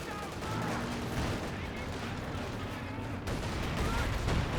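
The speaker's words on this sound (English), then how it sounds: "152mm barrage being cast in somewhere" A 152mm artillery barrage in the strategy game Company of Heroes, a dense rolling stream of blasts and gunfire, steady and loud, with a commentator's voice running over it.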